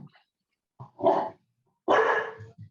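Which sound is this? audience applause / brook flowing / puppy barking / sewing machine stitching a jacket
puppy barking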